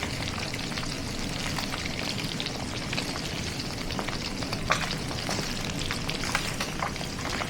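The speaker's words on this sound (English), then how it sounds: "Flip them halfway through frying for that crispy crunch on every side." Steady, dense sizzling of food frying in hot oil, with crackling pops throughout and no talking.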